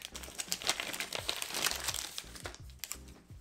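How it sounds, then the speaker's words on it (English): Crinkling plastic of a Yu-Gi-Oh booster pack grab bag, handled up close in uneven crackling bursts with sharper crunches toward the end. "Hate these plastic bags."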